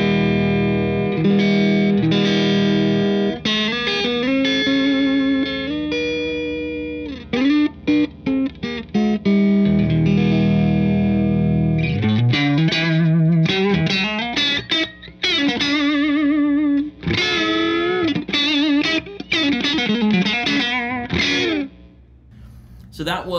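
Telecaster electric guitar played on the neck pickup through the clean channel of a Marshall JVM 410H in red mode, a continuous run of chords and single notes that ring out loud and close, with some dirt on the tone and no talking.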